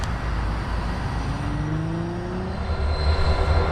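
Amtrak 19 passenger train passing a work crew on a main line, a steady broad rumble with a rising tonal squeal or horn-like whine, loud and continuous throughout.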